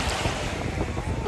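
Waves washing onto Mambo Beach in Curaçao on the Caribbean, a soft, continuous rushing wash mixed with wind buffeting the microphone.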